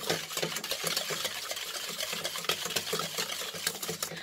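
Cream whisked by hand in a bowl with a wire whisk for a no-machine McFlurry-style ice cream, giving a fast, steady scraping and clicking rhythm, faint and close, with no voices.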